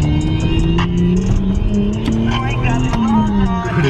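A Nissan Skyline R33 fitted with an RB30 engine revs close by, its engine note rising and falling steadily while people talk over it.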